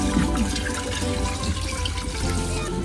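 Saffron-infused water poured onto rice in a pan for homemade paella, a steady continuous splashing and gurgling pour lasting the whole stretch, close and fairly loud with no talk.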